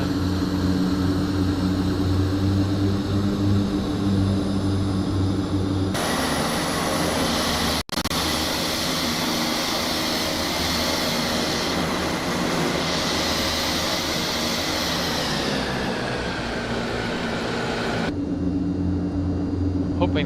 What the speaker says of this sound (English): Hoping that just means it's idling down after starting.